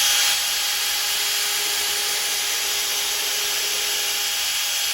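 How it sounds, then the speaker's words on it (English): A small drill bit whirs steadily through a hole, a continuous bright, even drone at close range that holds unbroken from start to finish. "just hold it still and then just drill in there"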